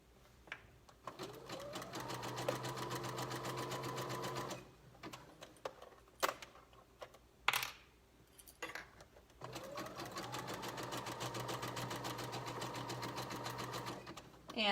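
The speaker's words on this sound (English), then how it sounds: "And then we're stretching the elastic as I sew." Sewing machine running zigzag stitches to attach stretched elastic onto a tankini, loud rapid mechanical whirring in two long bursts separated by a pause with a few clicks, a voice speaking intermittently.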